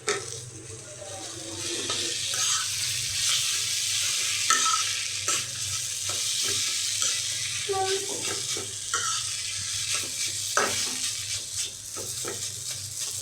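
Fried potatoes get stirred into crispy noodles in a pan, a continuous sizzle with intermittent scraping and clacking of the utensil against the pan, close up and steady.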